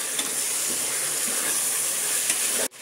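Tomatoes dropped into ginger-garlic paste frying in hot oil for biryani, producing a loud, close, steady sizzle and hiss that cuts off abruptly at the end.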